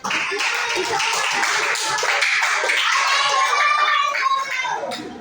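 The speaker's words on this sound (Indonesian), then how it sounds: "Tepuk tangan untuk kelompok 2" Classmates in a classroom clap for a student group, a steady dense patter of hands lasting several seconds, with children's voices calling out and chattering over it before it thins at the end.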